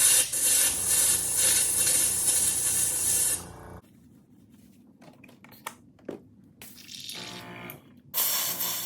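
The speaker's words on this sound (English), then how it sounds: "Once again, we gotta clean the airbrush off." An airbrush hisses in a sustained, fairly loud spray while being cleaned out between paint colors on a fishing lure, then cuts off into quieter handling noises and short bursts of spraying.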